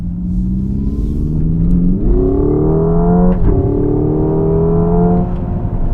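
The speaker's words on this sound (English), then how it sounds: "you've got something called N Active Sound Plus, and that has been designed to make this sound like an internal combustion engine car." Hyundai Ioniq 5 N electric car plays its N Active Sound Plus synthetic combustion-engine note, a loud, close droning growl that climbs in pitch in steps like upshifts, steady throughout with no talk.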